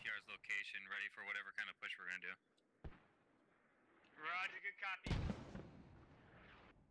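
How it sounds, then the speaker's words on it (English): Mortar fire in the Squad military video game, with a couple of sharp booming impacts cutting through close radio-style talk, followed by a louder burst and rumbling decay near the end. "Ooh, mortar shots."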